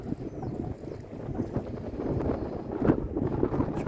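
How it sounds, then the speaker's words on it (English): Strong winter wind blowing in across a lake where carp anglers fish, producing a steady low rushing and buffeting against the microphone that grows slightly stronger toward the end. "The wind is absolutely hacking in off this end."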